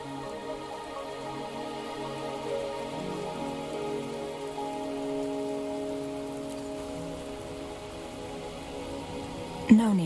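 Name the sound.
rain in the video game Wuthering Waves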